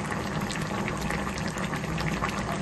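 Ginataang tambakol, fish stew in coconut milk with kamias, simmering in a large pot, giving a steady low bubbling with a constant soft hiss, close and fairly quiet.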